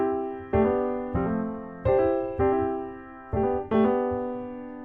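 Acoustic piano playing sus2 grace-note chords that resolve to major chords, six distinct struck chords each decaying cleanly, close and alone with no talking.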